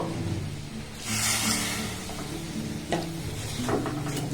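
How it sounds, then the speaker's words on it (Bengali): Water poured into a hot pan of fried rice flour mixture, a loud rushing hiss bursting up partway through over ongoing sizzling, followed by a few scraping stirs. "এবার এখানে আমি জল দিয়ে দেবো"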